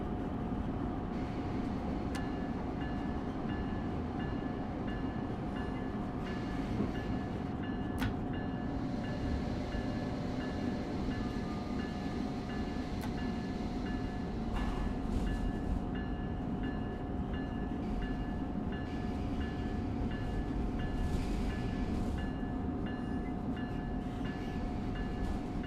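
A commuter train running in the simulator game Train Sim World 3, with a continuous loud rumble of wheels and motors and a steady tonal whine, broken by occasional clicks and knocks, no talking.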